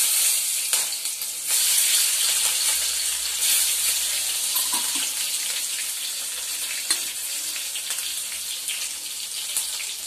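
Curry leaves and green chilli dropped into hot oil, a loud continuous sizzle and hiss with scattered crackles that settles slightly over time, no one speaking.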